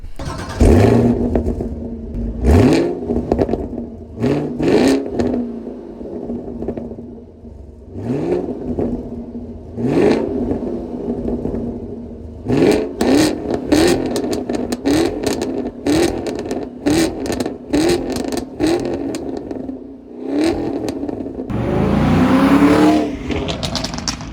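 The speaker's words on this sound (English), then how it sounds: "you tap on the gas, let off, and it just pops and cracks all the way down the road" Close, loud Chevy Camaro engine revs rise and fall repeatedly, each followed by sharp popping and crackling from the exhaust, with a deeper burble between blips.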